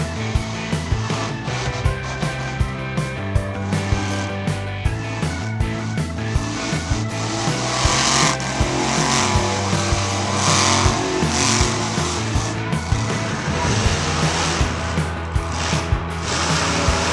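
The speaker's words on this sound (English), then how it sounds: "This green monster truck is doing a wheelie." A green monster truck's engine roars steadily while it pops a wheelie, loud and continuous with rattling mechanical clatter and no voices.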